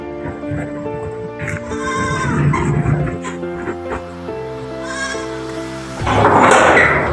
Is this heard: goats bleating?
yes